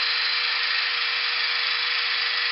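A hand-crank bead roller converted to motor power runs steadily, a loud constant electric whir with a high-pitched tonal hum throughout, no talking.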